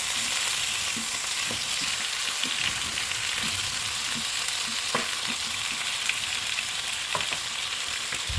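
Steady crackling sizzle of potatoes frying in hot oil for chicken adobo, with occasional soft clinks and stirring scrapes, close and continuous.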